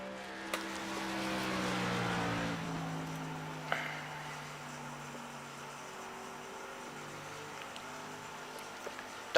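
Racing truck engine in an EFRL truck series racing game, a steady droning whine with shifting harmonic tones that eases off after a few seconds, faint throughout with a few small clicks.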